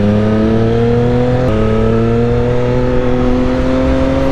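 A car with a new exhaust revs hard and close, its loud steady engine note holding high with a brief blip midway and a slowly climbing pitch, no voices.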